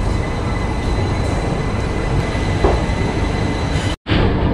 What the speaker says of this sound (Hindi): ट्रेन हमारी पहुँच चुकी है मुरादाबाद जंक्शन